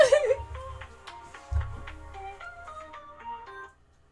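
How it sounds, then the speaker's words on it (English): A phone ringtone plays a melodic, tinkling tune for a few seconds, fairly clear against a quiet background, with a low thump and some vocal sound at the start. "And of course I got a phone call."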